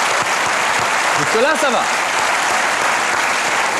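A French TV studio audience on La méthode Cauet applauds in a steady, dense roar of clapping while someone speaks briefly over it and a short tonal whistle-like sweep rises and falls midway.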